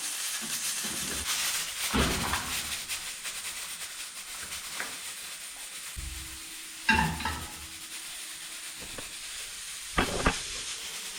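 Steady hiss and sizzle of potatoes frying in hot oil, with occasional clinks and stirring clatter, no voices.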